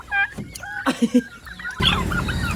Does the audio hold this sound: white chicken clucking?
yes